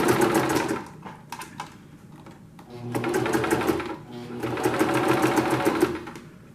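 A sewing machine stitches the seam of a pleated fabric face mask with elastic ear loops, running in rapid bursts with short pauses between, near and clear.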